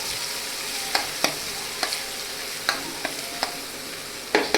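Onion sautéing in a pan for paneer tufani: a steady, close sizzle broken by sharp spatula clicks and taps at irregular intervals, with a quick pair of knocks at the end and no voices.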